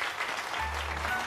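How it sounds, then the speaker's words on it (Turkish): Brief, faint applause from a small group in an office setting, a soft wash of clapping under a low steady hum, lasting just over a second. "Arkadaşlar büyük bir alkışla gidiyorum şu an."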